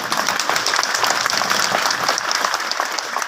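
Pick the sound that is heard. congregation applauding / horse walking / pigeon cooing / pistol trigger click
congregation applauding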